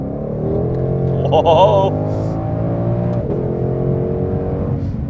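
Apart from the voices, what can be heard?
2020 Shelby GT500 Mustang accelerating hard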